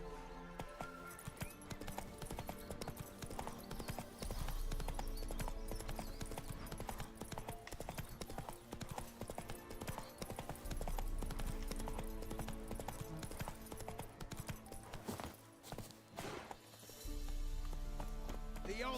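Horse galloping in The Witcher 3, rhythmic clip-clop hoofbeats running steadily under game music and ambience, fairly faint overall with brief pauses in the beat.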